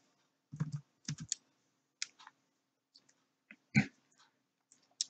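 Keystrokes on a computer keyboard as data values are entered into a spreadsheet, coming as sparse, irregular clusters of quiet clicks with short pauses in a silent room.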